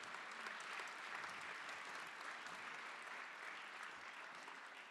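A conference audience at a Python programming talk gives a sustained round of applause, a dense, even wash of many hands clapping at a moderate distance without pause.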